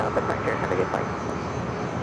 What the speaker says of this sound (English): The flight taken off is Southwest Airlines flight 3279 heading to Oakland, a 737-700.